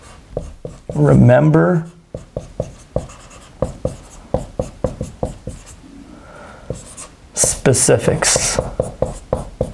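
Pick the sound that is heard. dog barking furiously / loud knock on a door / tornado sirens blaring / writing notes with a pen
writing notes with a pen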